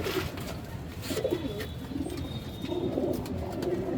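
A large female pigeon cooing close by, with soft repeated low coos and a little fluttery movement over a steady background hum, with no voices.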